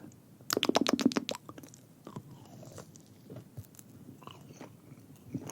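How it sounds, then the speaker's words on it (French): Crisp bite into a milk-chocolate-coated marshmallow bear: a quick burst of crackling shell snaps, followed by soft, quiet chewing close to the microphone. "Quand tu le croques, la coque doit laisser la place à une guimauve douce et légère."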